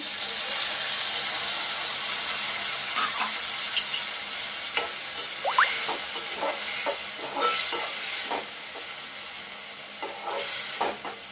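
Soybean bhurji with chopped onion and tomato, with a little water added, hisses and steams in a pan, a continuous sizzle punctuated by scattered scrapes of a spoon stirring the mixture.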